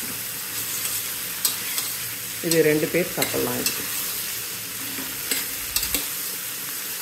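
Bottle gourd sizzles softly in a pan while a utensil stirs and scrapes now and then. A voice speaks briefly partway through.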